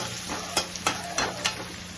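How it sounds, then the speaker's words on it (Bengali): Onions fry in hot oil with a steady close sizzle, broken by four quick scraping stirs of a spoon in the pan. "এখন পেঁয়াজটাকে লাল করে ভাজবো"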